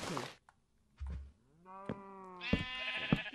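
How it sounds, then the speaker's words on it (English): Sheep in the video game Minecraft bleat in two or three short, wavering calls, close and clear with no talking, after a brief soft thump. "Yay, some sheep."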